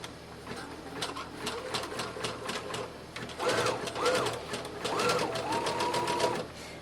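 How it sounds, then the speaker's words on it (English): A sewing machine stitches elastic into bloomers for an 18-inch doll with a rapid, even patter of needle strokes up close. Rising and falling squeaky tones ride over the steady run. "I'm going to sew them together nice and securely"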